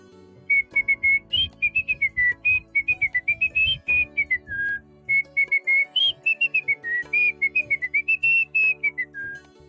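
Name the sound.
man vocally imitating a music tune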